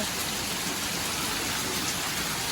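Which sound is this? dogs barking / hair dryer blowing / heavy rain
heavy rain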